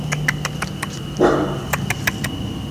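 A dog barks in a series of short, sharp yips spread across a few seconds, with one fuller, louder bark near the middle, heard fairly close over a low background hum.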